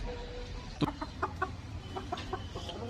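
Chickens cluck in a short series of distinct, moderately close calls, with one louder squawk near the start and a steady low background hum throughout.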